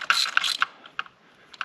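A socket being turned by hand to thread a steel spark plug into the aluminum head of a BMW 328i four-cylinder engine, giving a few quick ratcheting clicks close up, then sparse, faint single clicks.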